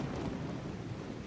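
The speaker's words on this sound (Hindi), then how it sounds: "कपड़े गीले हो गए हैं और बारिश भी बहुत है" Heavy rain with thunder on a stormy night, a dense, continuous roar of rainfall with a low rumble underneath, loud and unbroken for a brief moment.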